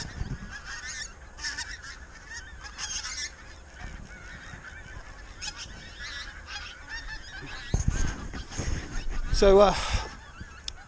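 Pink-footed geese honk repeatedly on a frosty morning, a steady chorus of many birds at middle distance that swells louder toward the end as more flocks come in, with a brief spoken word.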